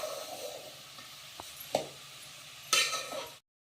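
Soft stirring of carrot halwa in sugar syrup in a pan on low heat, a faint sizzle with a few light clinks of a spoon against the pan.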